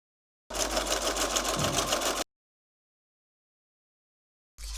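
A sewing machine stitches through a vellum junk journal page in one steady, close run of about two seconds, followed by silence and a brief restart at the end.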